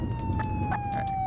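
An alternate emergency siren in the Flashing Lights game holds a steady, slowly falling tone over engine rumble, with short bursts of a second sound pulsing above it during a brief, loud moment.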